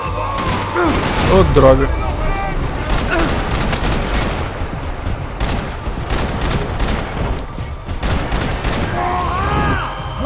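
Rapid bursts of gunfire and loud explosions from the video game Max Payne 3 fill the scene continuously, with players talking over the shooting.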